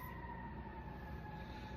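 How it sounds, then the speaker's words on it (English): A faint, distant emergency siren holds a steady wailing tone under a low background rumble. "y'all hear them sirens?"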